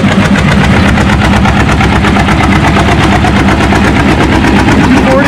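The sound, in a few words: John Deere tractor engine roaring at a tractor pull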